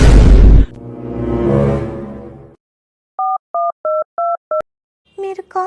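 A telephone line gives five evenly spaced, identical electronic beeps of a busy signal. Voices are heard briefly before the beeps, and a voice returns right after them.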